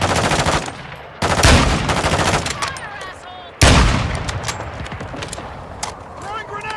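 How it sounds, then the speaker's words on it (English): Rapid machine-gun fire pours in during a Call of Duty DMZ match, loud bursts cutting in twice over a constant din of shots, with voices heard in the mix. "You are taking effective fire."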